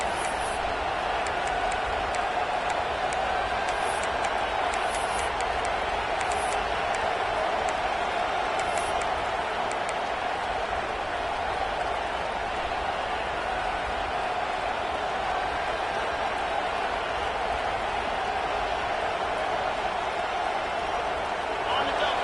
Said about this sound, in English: this crowd getting behind its defense